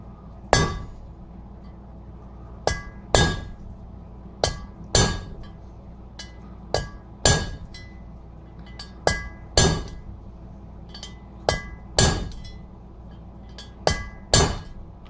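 A hammer strikes a drift to drive a valve guide out of a 420a Eclipse cylinder head, giving sharp metallic clinks in an uneven series of about fifteen blows, near and loud, with short pauses between them.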